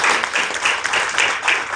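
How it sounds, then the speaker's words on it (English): An audience at a university partnership celebration claps together in steady, loud applause filling the whole moment, with no voice over it. "Please give them a round of applause."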